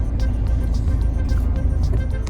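A car rolls along a road near Valparai on the way to Monkey Falls, its engine a steady low rumble with road and tyre noise, heard up close from inside the vehicle.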